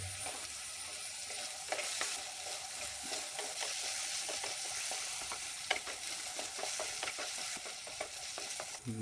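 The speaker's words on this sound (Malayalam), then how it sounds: "ചെറിയുള്ളി അരിഞ്ഞത്, കീറിയ പച്ചമുളക് ഇട്ട് കൊടുക്കുക കേട്ടോ" Chopped shallots and slit green chillies fry in a pan for a Kerala shark curry, giving a steady close sizzle broken by repeated stirring scrapes, with no talking.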